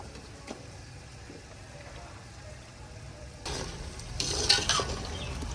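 Meat (gosht) fries in a pot for a village-style pulao, a quiet background hiss that swells into louder sizzling and scraping stirs toward the end.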